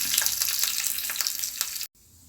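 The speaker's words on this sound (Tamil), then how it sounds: "இப்போ அது கூட நம்ம ஒரு ஆறுக்கு கருவேப்பிலையும் சேர்த்துருவோம் கருவேப்பிலை நல்லா பொரியட்டும்" Curry leaves crackle and sizzle in hot oil as a tempering for Andhra-style spicy chutney, a loud, close, dense frying hiss with stirring that cuts off abruptly near the end.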